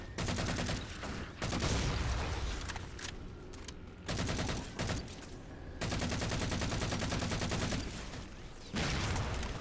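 Rapid bursts of gunfire from the video game Halo 4, dense automatic fire and volleys rolling nearly continuously with brief gaps, loud and close throughout.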